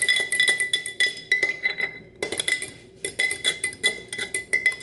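A spoon stirs a raspberry-flavored drink in a glass, clinking steadily against the sides in quick irregular taps for several seconds, with one brief pause, close and bright, with no talking.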